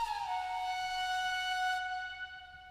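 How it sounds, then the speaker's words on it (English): A single sustained flute note with a slight upward bend at the start, washed in effects within a Japanese-style trap beat, ringing smoothly over a faint low pulse before a soft fade. "I'm gonna add the flute onto the effects of the melodies,"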